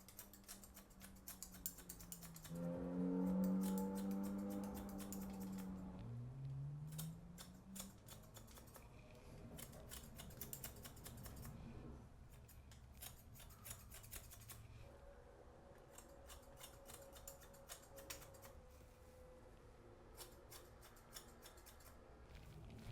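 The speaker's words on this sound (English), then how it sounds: "I just finished using the thinning shears to blend in the hair on top to the fade" Thinning shears snipping through hair over a comb during a self-haircut blending the top into a fade, a steady series of quiet, crisp clicks and snips, close up with no talk.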